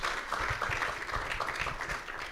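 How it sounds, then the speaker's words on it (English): A small group claps after a pitch presentation, a short burst of quick, fairly close applause with audible individual hand claps, tapering slightly at the end. "Hey, guys, round of applause."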